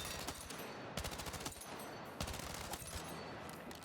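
Rapid SMG fire in the Battlefield 6 video game, several dense automatic bursts at close range separated by brief pauses, loud and sharp with no voices.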